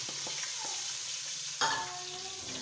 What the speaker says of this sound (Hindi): अब ऑयल गर्म हो गया है, अब इसमें मैं मैदा डाल दूंगी